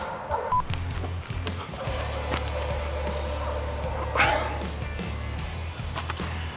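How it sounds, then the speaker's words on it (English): A dog barks close by outdoors, a few sharp barks rising over a steady low rumble of background noise, with a phone tone sounding briefly. "the dog starts barking again"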